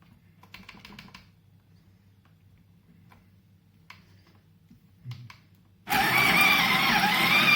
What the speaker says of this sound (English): you can't hold a conversation whilst this thing is grinding beans